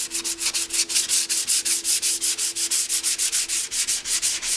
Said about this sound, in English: I don't want to sand a hole in the tank.